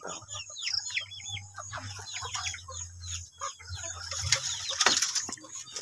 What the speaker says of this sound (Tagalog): Mga broiler natin.